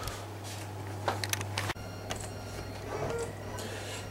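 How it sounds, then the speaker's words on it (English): 3D printer working through robot parts: steady mechanical whirring with a constant low hum, faint ticks and small movement noises, close and continuous, no one speaking. "So I've just been printing out, hundreds of pieces."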